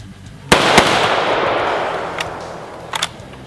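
A Century C308 rifle firing .308 ammunition: two sharp, loud shots close together, then a long echoing roll, followed by a few fainter distant cracks.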